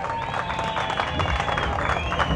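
A crowd at a Zulia motorcycle show applauds in a dense, continuous patter, mixed with scattered shouts and some whistle-like tones throughout.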